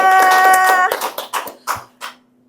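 A small group claps briefly, dense at first, then thinning into a few scattered separate claps that fade out, with no talking over them.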